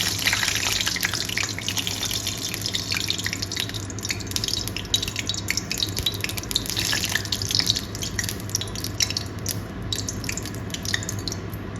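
Banana flower ingredients dropped into hot oil hiss and sizzle steadily, a dense crackling wash with scattered pops and spits that holds at an even loudness throughout.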